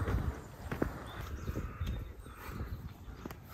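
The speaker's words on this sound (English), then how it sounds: "That's a lot of horses." Several horses' hooves clip-clop on a hard path on Cleeve Hill at an uneven walking pace, fairly close, with faint outdoor ambience and no talking.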